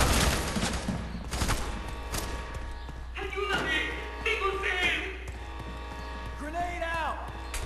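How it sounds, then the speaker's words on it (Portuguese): Grenade blasts in the video game FEAR 3: a burst of heavy, booming thuds and gunfire crowds the opening second or so, then fainter rumbling continues while someone talks over the game audio. "Estão tacando granada até umas horas ali, maluco."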